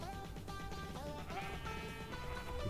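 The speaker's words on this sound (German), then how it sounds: "also Schafe hat es hier" Sheep in the game Minecraft bleating with a wavering, nasal cry that carries through the whole stretch, loud and close over steady background game music.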